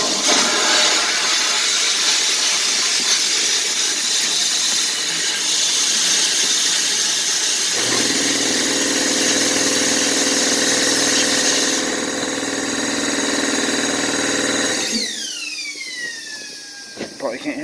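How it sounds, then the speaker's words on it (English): Air compressor running steadily to feed a homemade wet blast cabinet, a loud continuous mechanical drone that shifts pitch partway through, ending with a falling whine as it winds down; a voice talks over it. "Probably can't hear nothing with the compressor running"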